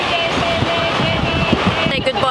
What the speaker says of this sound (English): It's so windy and so cold.